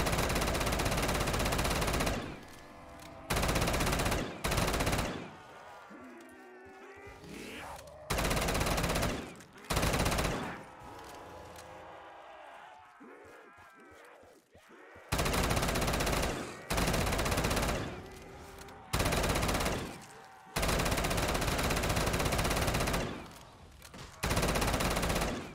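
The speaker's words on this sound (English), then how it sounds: "I'm gonna try this gun out for a minute." An automatic gun fires in the Overgrowth custom zombies map Stairway, in long, loud bursts of rapid gunfire separated by short pauses, with a voice talking faintly in the gaps.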